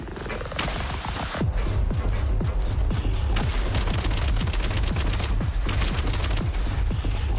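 Rapid, sustained video-game gunfire laying down covering fire, dense overlapping shots and bursts running loud and continuous throughout.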